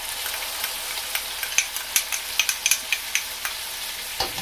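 Sofrito for black bean rice with bacon sizzles in a pan, a close, steady frying hiss broken by a run of rhythmic scraping stirs. There is no voice.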